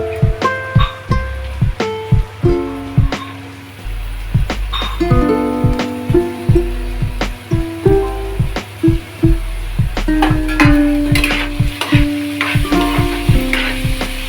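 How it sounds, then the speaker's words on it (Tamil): Bitter gourd and onion fry in hot oil for pavakkai thokku as a ladle stirs, knocking repeatedly against the pan over a steady sizzle, loud and close, with no speech. "வெங்காயம் பாவக்காய் நல்லா எண்ணெயில் வதங்கின வாட்டி தான்"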